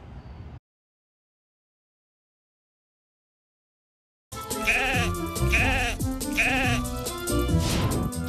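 Sheep bleat repeatedly in a series of wavering cries, loud and close, after a short burst of noise and a few seconds of silence.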